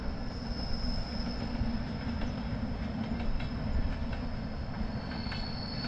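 A train rolls along the single railway line near Araku Valley on the Vizag route, a steady, loud rumble of wagons with faint rhythmic wheel clicks and a thin high squeal running throughout, with no voices.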